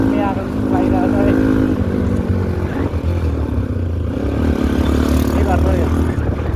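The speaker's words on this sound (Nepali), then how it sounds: "बाइकको आवाज कस्तो आइरहेको छ पनि सुनिदिनु होला" A motorcycle ridden on the Diktel to Halesi road in Nepal gives a continuous close engine drone with slight pitch shifts, and a voice seems to speak over it at moments.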